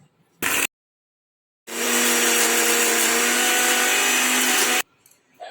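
A mixer grinder whirs steadily for about three seconds, loud and close, grinding sev khamani chutney batter with lemon and a few ice cubes, with brief bursts of silence before it starts and a short rattle as it stops.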